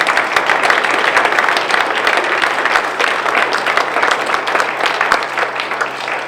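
Loud, dense clapping from a seated audience at a municipal council meeting fills the room steadily for several seconds, close and sustained without any speech.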